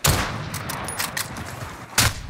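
Sniper rifle shots ring out in a video game battle, one sharp report at the start and another around the two-second mark over a steady noisy background.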